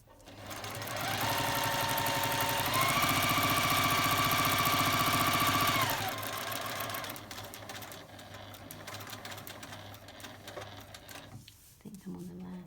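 A sewing machine stitching patchwork half square triangles at a small stitch length: a loud, steady whirring hum that runs for several seconds, then slows and stops, with a person speaking over the later part.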